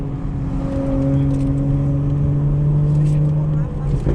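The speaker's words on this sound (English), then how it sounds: "that's how we get the burbles." BMW 4 Series with a B58 engine driven through New York City, a steady loud engine drone with sustained exhaust tones rising and falling through upshifts and downshifts, close and continuous.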